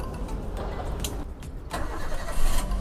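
A used car's engine at an auction cranks and catches right away, then settles into a steady idle with a loud rise near the end, close by.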